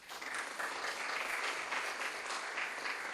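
A large audience at a college workshop gives sustained applause, a dense even wash of clapping that holds steady throughout at moderate distance.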